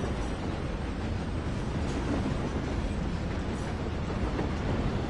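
A train in a Plunder-mode video game rumbles closer as a steady, dense, low roar, holding loud and even throughout with no voices over it.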